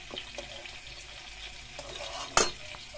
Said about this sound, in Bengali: এই যে মাছ দেখতেছেন কয়েক পিস ভাজতেছে এগুলো রুই মাছ